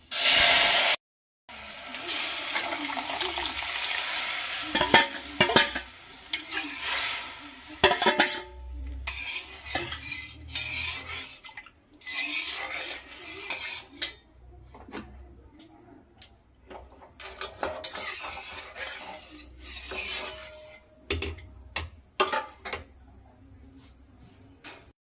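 Boiled urad dal goes into a hot tempering in a pot and is stirred, with a loud sizzling burst at the start followed by metal spoon clinks, scrapes and pot clatter at close range, without speech.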